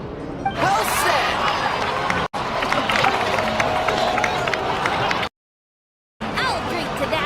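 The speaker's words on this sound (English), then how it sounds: "please give a round of applause for them" A video game crowd claps and cheers in a dense, steady roar, loud and continuous, cut by two brief silent gaps.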